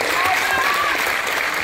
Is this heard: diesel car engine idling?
no